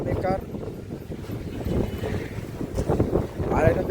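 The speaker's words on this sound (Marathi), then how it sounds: "वारा एकदम बेकार सुटला" Strong wind blows at the Monkey Point hill viewpoint on a cold evening around sunset, making a constant low roar and buffeting the microphone, with faint voices murmuring underneath.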